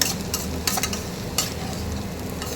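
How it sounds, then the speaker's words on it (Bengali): Spiny gourd (kakrol) frying in a pan with a steady dense sizzle while a spatula stirs, scraping and clicking a few times against the pan, close and without talk. "এরকম নাড়িয়ে নিলাম"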